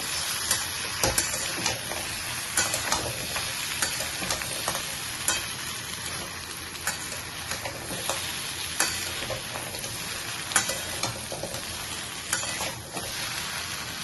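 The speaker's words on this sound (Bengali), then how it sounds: "আগে থেকে ভেজে রাখা উচ্ছে, বেগুন, বড়ি সব দিয়ে দেব। বেশ করে নাড়িয়ে চালিয়ে একটু ভেজে নেব।" Bitter gourd, brinjal and bori (lentil dumplings) stirred and fried together in a pan for Bengali shukto. Steady close sizzle with repeated scraping strokes of the stirring spoon, no voices.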